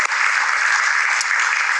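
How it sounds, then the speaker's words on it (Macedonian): Studio audience applauding on a Macedonian TV quiz show, a steady, dense burst of clapping that runs unbroken and loud for about two seconds with no talk over it. "Убав аплауз, браво!"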